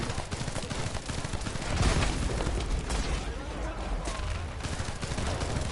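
Rapid automatic gunfire from a player's weapon in The First Descendant on PS5, dense overlapping bursts of shots running continuously and loudly, with faint talk underneath.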